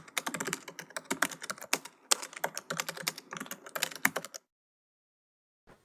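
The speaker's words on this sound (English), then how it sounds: "Then you have to type at group name." Rapid, steady typing on a computer keyboard, close and crisp, with dense keystrokes for about four seconds before stopping abruptly into silence.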